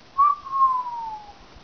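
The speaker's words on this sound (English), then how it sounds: "Just gotta whistle." A single person whistles one sliding note that starts bright and high and glides gently downward. It is close and clear against near silence.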